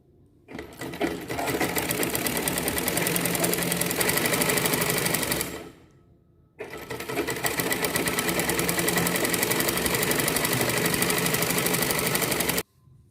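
Sewing machine stitching a 1.5-inch hook strip on a collar blouse, two long bursts of fast, even mechanical whirring and clatter, close and loud, separated by a brief pause.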